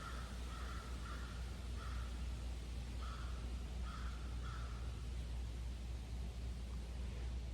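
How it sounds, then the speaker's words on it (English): Crows cawing in a pine-wooded park in Maine, several short harsh caws in loose bursts, fairly distant, over a steady hiss of background noise. "I wanted you to hear the crows too."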